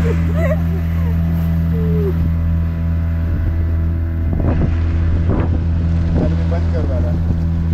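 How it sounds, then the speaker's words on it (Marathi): A scuba diving boat's engine hums steady and loud near the Nivti Lighthouse, with wind buffeting the microphone. Several voices talk over the drone and splashes. "ही आहे स्कुबा डायव्हिंगची बोट"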